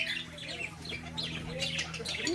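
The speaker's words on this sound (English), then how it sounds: "More birds, girl. What are those?" Birds at a petting zoo farm call in short squawks and chirps over a steady low hum, moderately close, scattered irregularly through the moment.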